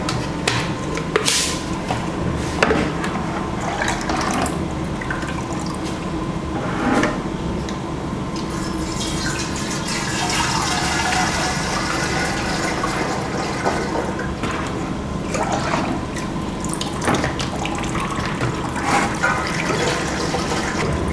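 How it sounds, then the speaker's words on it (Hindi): Lychee flavour syrup runs into a washed soda machine tank, a continuous gurgling pour with intermittent knocks and clunks from handling the container, no talk over it. "जैसे कि मैं इसमें फ्लेवर लोड कर रहा हूँ"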